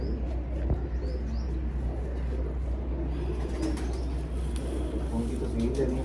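Pigeons coo and call at a competitive pigeon-flying (kabootar bazi) event, the soft birdsong rising over a steady low background hum while people talk nearby.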